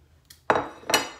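Whisk clinking against a bowl while lemon zest is stirred into pie filling, a few sharp metallic taps separated by pauses, close and clear.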